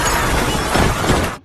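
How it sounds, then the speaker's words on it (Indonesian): A glass door shatters under a crowd of zombies in the film Train to Busan, a loud, dense burst of breaking glass and crashing lasting about a second before cutting off sharply. "pintu kaca itu pun harus pecah akibat terlalu banyak zombie yang"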